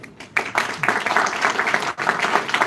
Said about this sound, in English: So give a big round of applause for yourself.